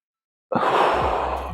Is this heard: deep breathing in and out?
yes